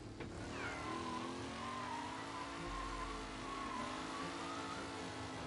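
Car engine revving hard as the car spins out in Mafia: Definitive Edition, a continuous loud roar with pitch sweeping up and down and tire noise, sustained for the whole stretch without talk.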